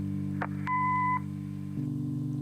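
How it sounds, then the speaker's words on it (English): Answering machine beep in the video game Kathy Rain: a short tone sounds, then a clear, steady electronic beep holds for about half a second over a low hum. "Leave a message after the beep."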